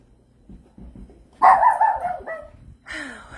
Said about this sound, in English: I hear my dog barking back there